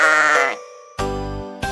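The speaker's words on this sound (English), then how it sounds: "That's a sheep." A fluffy farm sheep bleats loudly and close by, two wavering calls separated by a short quiet gap, with no other sound over them.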